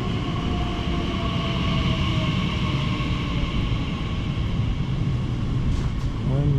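A London Elizabeth Line train pulls into a station with a steady, even rumble and whine throughout, and a brief high squeal near the end.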